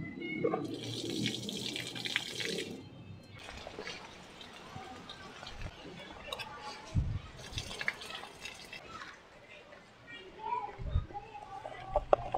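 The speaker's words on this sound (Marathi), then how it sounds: "हे आता पाणी टाकते थोडं त्याच्यामध्ये" Water runs from a tap into a vessel to rinse raw jackfruit pieces, an initial splashing pour followed by sloshing, dripping and handling noises, fairly faint and close, with someone speaking intermittently.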